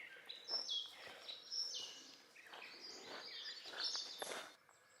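Several birds call and chirp in bright, scattered bursts, fairly close and overlapping, against a quiet outdoor background.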